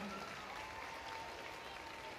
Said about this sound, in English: let's have a big round of applause for our top 20